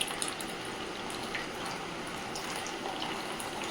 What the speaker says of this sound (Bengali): শাকটা ভালো করে সেদ্ধ করে নিয়েছি, জলটা ঝারিয়ে নিচ্ছি।